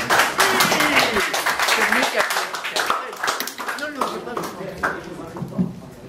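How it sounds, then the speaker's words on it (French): An audience at a live sound and action poetry evening applauds to welcome the artist Esther Ferrer, loud dense clapping with sharp individual claps, with voices and a speaking voice mixed in underneath. "Acclamons, applaudissons Esther Ferrer."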